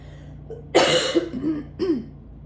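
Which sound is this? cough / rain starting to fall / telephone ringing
cough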